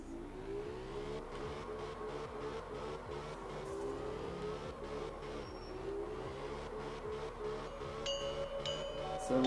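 A car's engine revs and whines steadily while drifting in the video game Absolute Drift, with continuous rising and falling engine tones, tire noise and faint ticking effects throughout.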